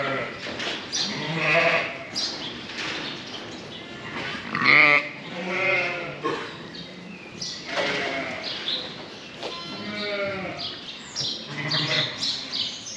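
Sheep and newborn lambs bleat repeatedly during lambing, several wavering calls rising over a steady farmyard background at close range.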